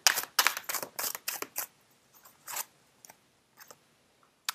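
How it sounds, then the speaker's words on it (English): Tarot cards are laid out on a table, giving a quick run of crisp, close card snaps and slides, then a few softer, scattered flicks and taps trailing off into near silence. "Let's lay out 3 more cards."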